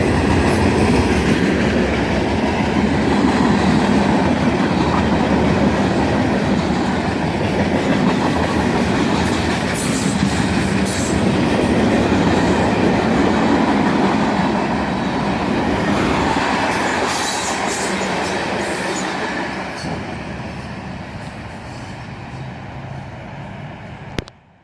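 CSX freight train rolling past in summer, a long steady loud rumble of wagons with clickety-clack wheels and faint squeal, fading slightly toward the end.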